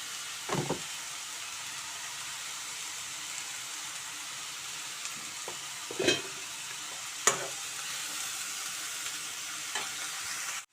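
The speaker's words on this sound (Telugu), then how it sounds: "బాగా కలుపుకుందాం." Ridge gourd and moong dal with salt are stirred in a pan, giving a soft continuous sizzle broken by a few scraping clinks of the spoon against the pan.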